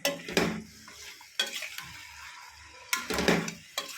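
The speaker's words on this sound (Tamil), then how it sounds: "நல்லா வதக்கி விட்டுக்கலாம்." Mutton stirred and tossed in a pan with a little turmeric, with scraping utensil strokes and a soft sizzle in bursts, close by.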